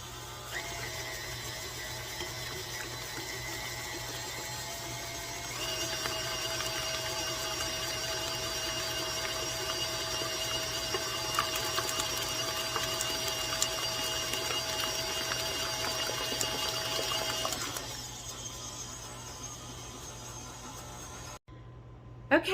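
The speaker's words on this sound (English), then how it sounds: "We have the egg, Crisco sugar, vanilla mixture in the stand mixer." A stand mixer whirs steadily as it beats egg, Crisco, sugar and vanilla, a loud motor drone with rising pitch partway through, then slows and stops near the end.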